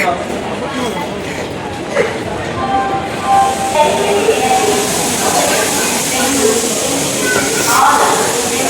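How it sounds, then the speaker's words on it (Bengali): A busy railway station platform with a Vistadome coach train standing at it gives a loud, constant wash of crowd and station noise, with people talking throughout. "এই যে আমাদের ট্রেন দাঁড়িয়ে আছে।"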